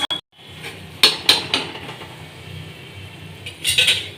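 A lid clanks onto a pan of shrimp curry with a sharp metallic knock, followed by several lighter clinks and a final rattling settle, close and loud against a quiet kitchen.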